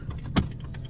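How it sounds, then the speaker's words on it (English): A car engine shuts off inside the vehicle, a brief clunk and key rattle over a steady low idle rumble that carries on, close up, with no talk. "Turn my car off."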